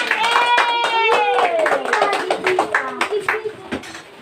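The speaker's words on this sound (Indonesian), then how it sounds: "Berikan tepuk tangan." Teachers and participants at a training gathering clap their hands in sharp, distinct claps while voices talk and call out over the clapping.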